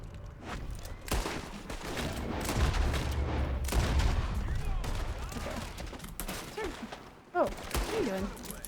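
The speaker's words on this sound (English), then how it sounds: "I only need to shoot this guy off of John." Red Dead Redemption 2 gunfight: several quick gunshots ring out over background game noise and rumble, with a few sharper cracks later. A voice comes and goes beneath the shots.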